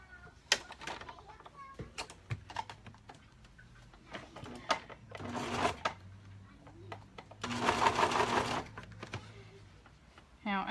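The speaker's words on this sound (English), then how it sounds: "Pull it back over here." A serger sewing machine runs in two short, buzzing bursts of stitching, with quieter handling noises and faint movement around them at close range.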